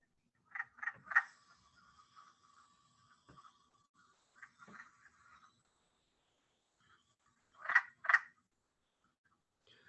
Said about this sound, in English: I'm going to attempt to play a call for you of the wood frog